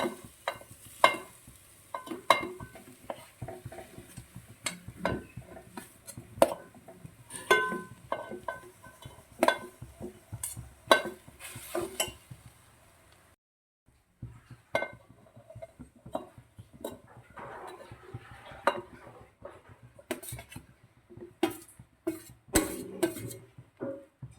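Mashed boiled tapioca and green chillies being stirred in a pan, Kerala style, with a spoon scraping and clinking in steady, repeated strokes over a soft sizzle, close and fairly quiet with a brief pause midway.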